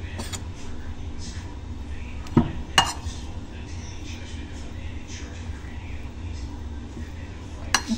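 Ground meat and omelette ingredients being stirred in a bowl, with a few sharp clinks of a utensil against the dish over a steady low hum, spaced irregularly and fairly faint.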